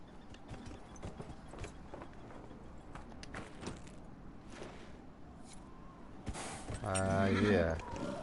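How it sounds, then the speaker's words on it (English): Hooves of a demon horse clip-clop in a steady walking rhythm in Dragon Age: Inquisition, fairly faint beneath game ambience, with a louder tonal game sound near the end. "I have a demon horse."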